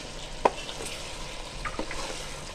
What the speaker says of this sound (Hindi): तो हम अच्छी तरह मिक्स कर देंगे।